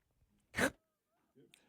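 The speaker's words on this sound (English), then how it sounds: "Sorry, I sneezed there. The microphone caught half of it." A single sharp human sneeze bursts out close to the microphone and is only partly captured, followed by a faint breathy sound and a short voiced murmur afterward.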